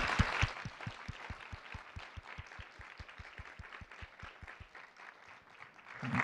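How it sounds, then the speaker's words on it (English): Applause for the judges at a university graduate research competition finals, a broad crowd clapping continuously with a rapid, steady rhythmic beat of claps running through it. "Big round of applause."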